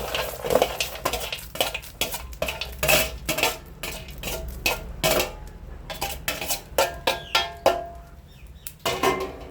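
A spoon stirring eggplant moju with peanuts in a pan, giving repeated clattering scrapes and knocks of metal on the pan in an uneven rhythm, close and clear, with no talking.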